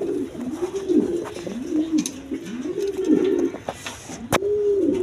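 Pigeons coo in a steady rhythmic series of low throaty rolls, close by, with faint wing flutters and small background noises.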